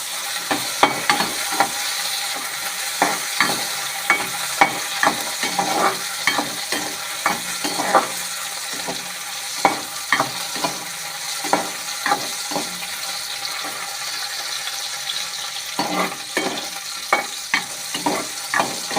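Garlic frying in oil for a garlic chutney, a soft continuous sizzle dotted with frequent sharp crackles and spatters, close and fairly loud, without speech.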